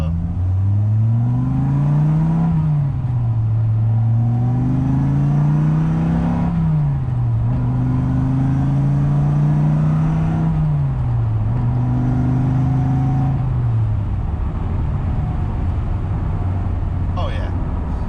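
A Dodge Viper GTS with an 8.0-liter V10 and six-speed manual accelerates hard through repeated gear pulls, the engine note climbing then dropping at each shift, loud and close, with a voice speaking over it.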